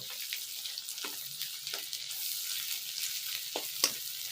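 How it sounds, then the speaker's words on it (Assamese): Dried fish fries in a pan with a constant, moderately faint sizzle and a few soft stirring scrapes spaced through it. Nobody talks. "চেপা মাছটো ধুনীয়াকৈ ভাজি ল'ব। এয়া মই মাছটো ভাজি ল'লোঁ।"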